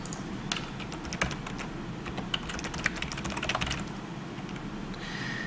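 An email address being entered on a computer keyboard during business software setup, heard as a steady run of light, irregular key clicks with a few sharper taps over a low room hum.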